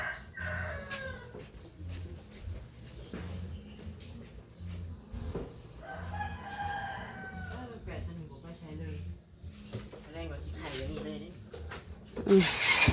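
A rooster crows a few times at a distance, with clucking fowl and someone talking nearby over quiet background.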